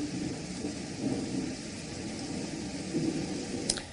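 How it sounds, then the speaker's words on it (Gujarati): Heavy downpour with thunder in Bayad, Dhansura, Aravalli, Gujarat: a steady, dense hiss of rain with low rumbling underneath, continuous and fairly distant throughout. "તો અરવલ્લીના ધનસુરાના બાયડમાં ધોધમાર વરસાદ થઈ રહ્યો છે."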